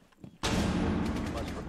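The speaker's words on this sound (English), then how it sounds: "Stun grenade." A stun grenade goes off in a video game: a sudden loud blast after a brief quiet start, followed by a sustained roaring rumble with crackling that slowly fades, alone without talk.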